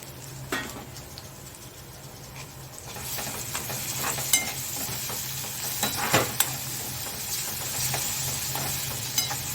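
Tomato sautéed with ginger-garlic paste in a pan for an egg curry, a steady close sizzle broken by repeated scraping and stirring clicks of a spatula, with no voices.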